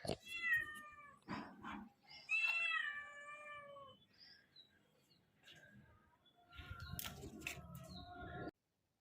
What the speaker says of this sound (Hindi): तो ये बिल्ली का बच्चा है मेरे घर में